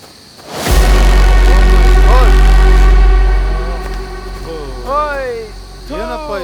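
A car engine starts with a sudden loud, low rumble that holds steady and slowly eases, while voices talk over the running engine.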